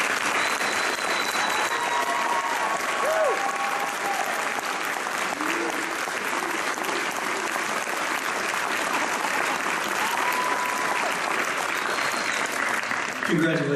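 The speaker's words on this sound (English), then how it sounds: "I've got a feeling this place is ready to explode in applause." An audience at a high school honors convocation claps steadily and densely for the whole stretch, a sustained wash of applause filling the hall without pause.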